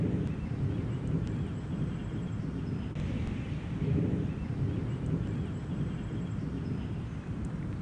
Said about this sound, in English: That thunder is still going. It hasn't stopped.